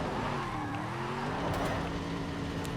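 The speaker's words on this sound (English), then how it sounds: "Let's put another ultimate drift here." Car drifting in Forza Horizon 5, a steady engine drone with rising and falling harmonic tones and faint tire noise, continuous and moderately loud throughout.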